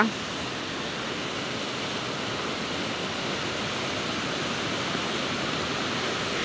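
A strong stream current rushes steadily with a dense, broadband roar, close and loud, with no break across the whole stretch.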